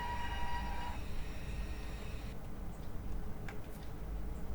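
A WAG-9 electric locomotive hauls a train in the MSTS train simulator game, with a steady low rumble of rolling wheels and a brief electrical hum that fades early on, followed by a few faint clicks.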